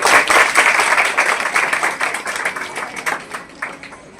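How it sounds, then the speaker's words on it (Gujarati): Audience applause at a community health event in Gujarat, steady clapping from a crowd that swells at first and then gradually thins and fades toward the end. "જોરદાર તાળીથી વધાવીશું"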